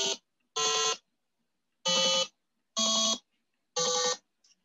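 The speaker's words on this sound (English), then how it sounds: "create your own piano keyboard using Arduino Uno, push buttons, and buzzer" An Arduino Uno buzzer keyboard with push buttons plays five separate electronic tones at different pitches, each a short harsh beep with silent gaps between, like notes on a simple keyboard.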